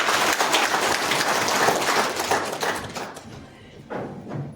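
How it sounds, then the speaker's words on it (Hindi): An audience at a community's 25th foundation day gathering claps loudly and densely, then tapers off, with a short, weaker burst of clapping near the end. "जोरदार ताली"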